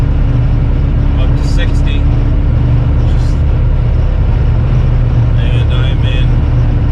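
A truck cruising at highway speed on 35-inch Milestar Patagonia tires, a loud, constant low road and engine roar with tire hum filling the whole stretch, while someone talks briefly over it.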